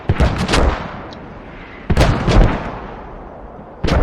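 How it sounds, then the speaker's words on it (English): Mortar shells land on Spit's forward operating base in a strategy video game, three sharp blasts about two seconds apart, each with a short rumbling tail. "the mortar is dropping down on Spit's fob here"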